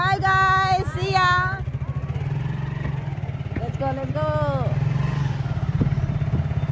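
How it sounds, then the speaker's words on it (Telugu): Motorbike engine running steadily up close at a low throb, rising slightly as it moves off, with people talking over it. "ఎప్పుడో స్టార్ట్ అయిపోతుంది బైక్"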